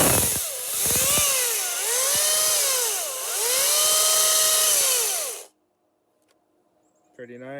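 A Makita cordless battery top-handle chainsaw spins up and revs in several rising and falling electric whines, loud and close, then cuts off abruptly to near silence with a faint click and a short noise at the end.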